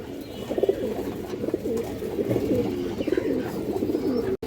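Makra Muslodom pigeons coo continuously in a loft, a dense overlapping chorus of low throaty calls at close range with no speech.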